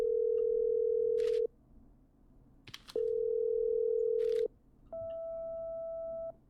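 Telephone call being patched through in the video game Killer Frequency: steady electronic tones sound in three long beeps separated by pauses, the last one higher in pitch, over faint background music.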